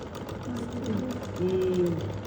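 A sewing machine stitching the waistband of a classic trouser, a close, steady mechanical whirr with a rapid needle rhythm, and a voice speaking faintly over it.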